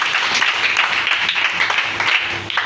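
A church congregation applauds and acclaims Jesus during a service, a dense continuous wash of clapping close and loud for the whole stretch, with faint voices mixed in.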